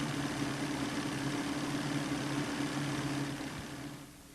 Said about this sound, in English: Start the engine and recheck the idle speed.